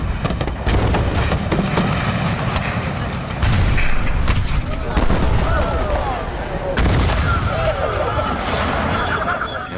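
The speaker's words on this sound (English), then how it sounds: "The mortars, a lot of the artillery, even the muskets, their original source came from the real stuff on the Gettysburg field" Artillery, mortars and muskets fired on the dry summer Gettysburg field boom and crack in repeated heavy blasts, loud and near, with outdoor rumble and echo between shots.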